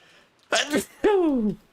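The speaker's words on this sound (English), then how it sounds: "I'm gonna sneeze." A quick two-part sneeze, a sharp intake followed by a loud voiced burst, close to the listener.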